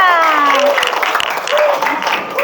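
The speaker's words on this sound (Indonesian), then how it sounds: "Tepuk tangan buat kita semua." Children in a classroom clap together after the teacher's call, a short burst of mixed applause with the teacher's voice over the start.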